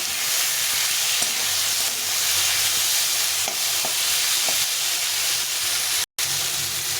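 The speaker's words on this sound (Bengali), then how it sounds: "এখন আমি দিয়ে দেবো মটরশুঁটিটা, দিয়ে মটরশুঁটিটা একটু ভেজে নেব" Green peas fry with tomato and potato in a pan, a loud, continuous close sizzle with occasional scraping stirs and a brief dropout near the end.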